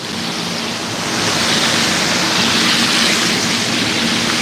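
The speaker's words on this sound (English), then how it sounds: "The sounds of the waterfall." Steady rushing roar of a waterfall in warm, humid, breezy outdoor weather, a continuous broadband wash that swells slightly after the first second and holds loud and even throughout, with no voices.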